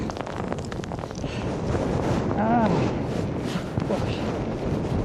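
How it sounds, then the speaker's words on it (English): Steady wind from Storm Darragh roars across the microphone in buffeting gusts at Skegness, with a faint whistling tone rising briefly in the middle. "It's windy."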